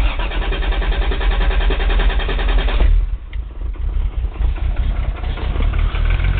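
A car engine idles just after startup with a rod knock fault, a steady loud mid-pitched rumble that dips briefly and then carries on, with no voices over it.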